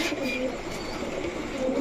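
A female pigeon with vivid red colouring, one of several pigeons for sale, gives a close, soft, throaty cooing call that runs continuously.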